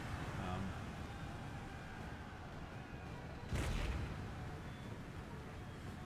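Cannon fire on a battlefield in Empire: Total War, with one distant booming shot rising out of a low, constant battle rumble while someone talks over it.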